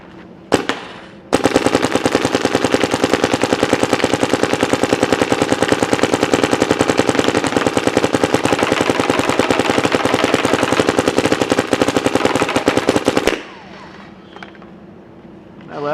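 A paintball marker on unlimited full-auto fire empties a pod in one loud, continuous burst of rapid shots lasting about twelve seconds, fed by a high-speed loader, then stops abruptly.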